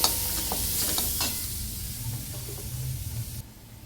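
Yogurt and gram flour batter goes into a hot pan with a hissing sizzle and a few stirring knocks, loud at first and then fading quieter toward the end.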